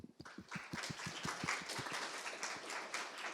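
Applause after a presentation in an online meeting: a few distinct claps open, then denser clapping builds and carries on at moderate volume, slightly distant and compressed.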